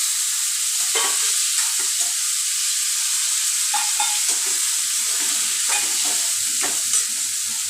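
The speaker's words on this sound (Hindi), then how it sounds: "बस अब ये सारा मसाला डाल के इसको थोड़ी देर फ्राई, थोड़ी देर इसे चला लेंगे अच्छे से" Spice masala frying and being stirred in a pan, a steady bright sizzle throughout with soft scraping strokes of a spoon at irregular intervals, close and loud, no talking.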